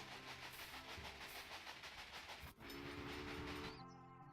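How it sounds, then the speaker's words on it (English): A train running in the video game Railway Empire, a continuous rumbling roll with rhythmic clatter, steady and close, easing off near the end. "That's a train going back out."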